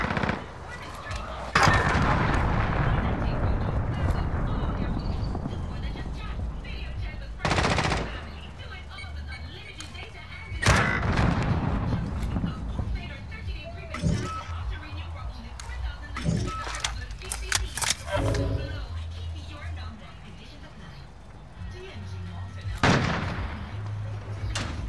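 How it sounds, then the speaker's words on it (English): Call of Duty: Modern Warfare match with a cruise missile strike: heavy booming explosions and bursts of rapid gunfire come in waves, mixed with game voice callouts and clattering impacts. "Allied cruise missile launched."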